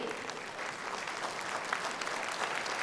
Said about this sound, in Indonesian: kita tepuk tangan untuk jawaban Paslon 2